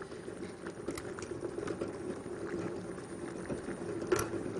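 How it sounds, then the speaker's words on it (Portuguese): Water boiling in two pots on a kitchen stove makes a steady bubbling and popping, with irregular small splashes, close and moderately loud and continuing throughout. "Então agora podemos observar que os dois já estão fervendo"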